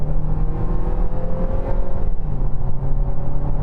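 A 2025 KGM Torres under kick-down acceleration, its engine note rising loud and close as revs climb.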